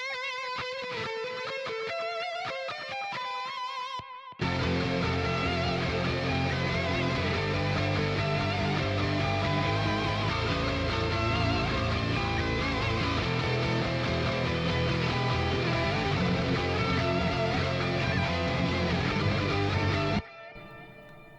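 Heavily distorted djent guitar mix run through a single amp plugin with a Greenback and V30 cabinet blend, with bass underneath; a short riff plays before a dense, loud, chugging full mix continues steadily and then cuts off.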